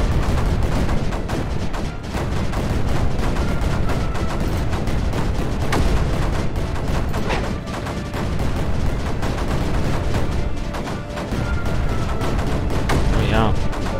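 Mortars firing in Creeper World 4 as a dense, continuous barrage of thumping shots and booms that runs steadily under a thick layer of game noise.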